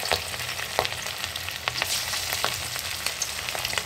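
Fish fries in smoking-hot oil in a kadai, giving a loud, dense, continuous sizzle and crackle with a few sharper pops near the start; no voices.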